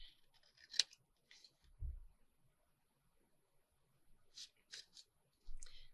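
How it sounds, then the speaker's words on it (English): Scissors snip through stiff card stock in a quiet room, a few short, crisp cuts spaced apart with a soft thump in between, close and faint. "I'm going to trim and pray I cut this straight."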